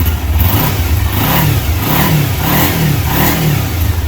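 A stock 2009 Kawasaki Ninja 250 motorcycle engine revs loudly and close by, rising and falling in a regular series of throttle blips over a rough idle.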